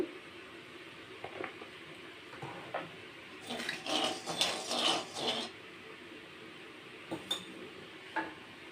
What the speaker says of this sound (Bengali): রান্না করার জন্য এখন আমি কড়াতে কিছুটা তেল দিয়ে দেব।